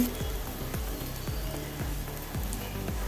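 Onions sizzle steadily in a pan over a full gas flame for egg bhurji, with repeated low scraping thuds of stirring roughly every half second beneath the continuous frying hiss, no talking.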